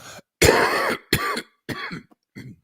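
Four separate coughs in quick succession, close and fairly loud, the first strongest and the last softer, with short silences between.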